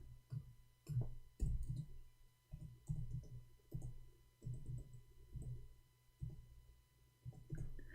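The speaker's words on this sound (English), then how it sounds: "I'm typing in English" Keys tapped on a computer keyboard, soft uneven clusters of clicks repeating over several seconds, close and quiet with no talk.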